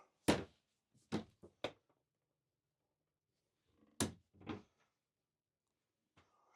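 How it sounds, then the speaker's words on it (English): An RV emergency exit window in the bunk room of a 2026 Salem 290ZEN travel trailer is pulled open, pushed and shut, giving a few close, sharp latch clunks and thumps separated by quiet pauses. "Emergency exit, pull, push, and plop."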